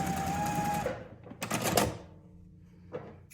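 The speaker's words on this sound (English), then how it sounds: "sew along that diagonal marked line" A sewing machine runs in a steady whirring burst while stitching fabric along a diagonal marked line, then stops, followed by a few clicks and clacks of handling the machine, close and moderately quiet.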